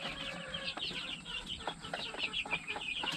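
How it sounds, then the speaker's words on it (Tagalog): Heritage chickens, including Orpington and Silkie breeds, cluck softly and repeatedly on a farm, a quiet scatter of short calls at close to middle distance over faint background noise. "malalaki ng ating heritage chicken"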